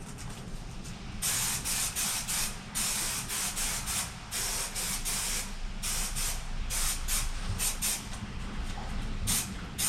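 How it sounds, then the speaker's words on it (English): Adhesive sprayed from an aerosol can while gluing panels for a shower build inside a Nissan NV350 camper van: several sustained hissing bursts, close and fairly loud, with short pauses between them over a steady low background rumble. "Let me go ahead and spray this real quick."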